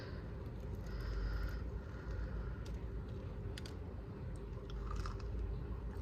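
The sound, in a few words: chewing a bite of homemade sourdough bread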